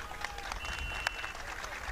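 Crowd applause at a Turkish oil wrestling final in Karaadilli, Şuhut, Afyonkarahisar, greeting both wrestlers after their bout; a steady, moderately distant outdoor clapping wash with a sharper clap near the middle.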